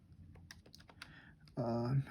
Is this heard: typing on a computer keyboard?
yes